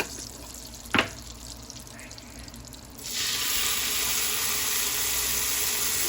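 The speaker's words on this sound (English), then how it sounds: "while your pan is hot, you're going to drop in some more garlic" Garlic dropped into hot butter in a pan for chicken Marsala, first a single clink, then a steady loud broadband sizzle that starts abruptly and holds evenly to the end.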